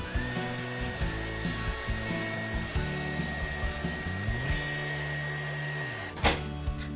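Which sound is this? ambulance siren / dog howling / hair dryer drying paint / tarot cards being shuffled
hair dryer drying paint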